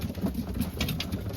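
Racing pigeons coo while pecking at their feed, low throaty calls repeating in soft overlapping bursts close by, with no speech.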